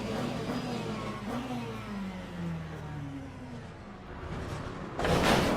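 GT3 race car engine in Le Mans Ultimate firing back up after a spin, a steady mid-pitched motor drone with a rising whine, ending in a louder burst of revving.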